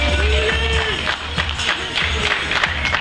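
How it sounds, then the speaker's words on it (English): Comedy club audience at the Atlanta Improv clapping and making noise, a steady dense wash of applause with scattered cheers and whoops throughout, loud and close, with a voice briefly speaking over it. "Start clapping right now"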